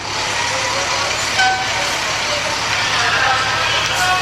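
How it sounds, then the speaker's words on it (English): Fire engine 221, a 2000 Freightliner Class A pumper, rolls past in a county fair parade in Susanville, its engine a steady loud drone with faint tonal chirps over the street noise. "Today they're driving engine 221, a 2000 Freightliner. It's a Class A pumper with 50 gallon per minute capacity."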